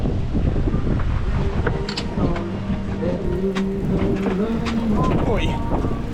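Strong gusting wind at sea buffets the microphone aboard a sailing boat as a rain squall arrives, a loud continuous roar with a voice speaking briefly over it.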